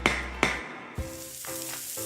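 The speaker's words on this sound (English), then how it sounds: "That's the sound of James adding long-lasting Gain scent boosters to his laundry this morning" Gain scent booster beads are poured and shaken into laundry, with a couple of sharp clattering hits followed by a rushing, sizzling pour and soft rattles, close and alone without talk.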